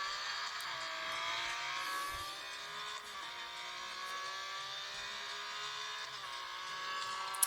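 A Porsche engine in a racing video game drones steadily with high whining tones that dip and rise through gear changes, continuous and moderately loud with no talk over it.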